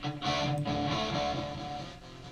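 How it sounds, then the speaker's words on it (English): One quieter band of a full music mix plays through a multi-band noise suppression plugin, giving a soft, filtered, muffled wash that fades slightly toward the end. "suppose this is a full mix and one of the bands sounds like this."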